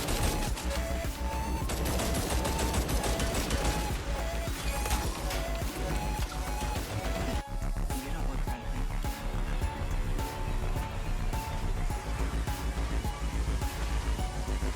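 Sustained machine-gun fire aimed at Plaga soldiers in the Resident Evil 4 Remake Separate Ways DLC, a dense continuous rattle mixed with loud game music and effects, with voices beneath.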